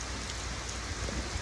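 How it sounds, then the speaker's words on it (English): Heavy rain pours steadily in the Mid-Atlantic backcountry during a motorcycle trip, a dense, unbroken hiss of drops drumming on surfaces with no voices. "It's pouring rain."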